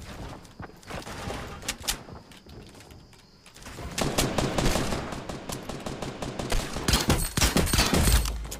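Gunfire in the battle royale video game Fortnite: bursts of rapid shots and heavier fusillades, sparse at first, then dense and loud continuous firing through the second half.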